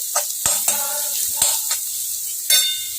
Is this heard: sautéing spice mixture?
yes